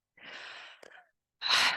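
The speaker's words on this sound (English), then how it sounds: "oh, I'm going to sneeze." A sharp inhaled gasp and a small catch of breath, then a pause before one loud, explosive sneeze close to the microphone.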